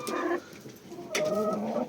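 A hen clucks nearby in two short bursts of throaty calls, loud and close, with a quiet yard in between.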